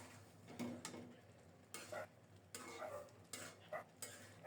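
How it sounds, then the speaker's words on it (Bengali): A spoon stirs roasted ground spice (cumin, cardamom, cinnamon) into ghugni in a pressure cooker, giving soft intermittent scrapes and faint metal clinks, quiet and close with small pauses. "নেড়েচেড়ে মিশিয়ে দিলাম।"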